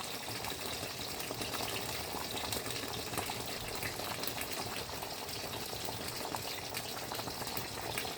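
Rice simmering in a pot on the stove with its water cooking down, giving a steady, continuous bubbling hiss at close range with no talk.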